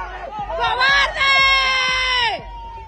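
A crowd at a political rally shouts and jeers. Several loud, strained voices rise together in a drawn-out chant, with brief dips between bursts. The crowd is close and intense, with no calm talking.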